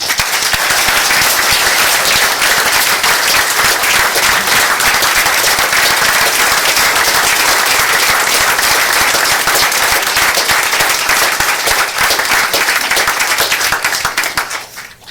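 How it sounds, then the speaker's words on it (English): A city council chamber audience claps for a newly elected mayor and council members, producing loud, dense, continuous applause for about fifteen seconds before it drops away abruptly at the end. "Give them a round of applause"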